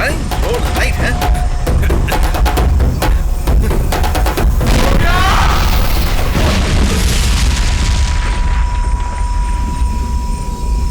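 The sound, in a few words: explosion in a film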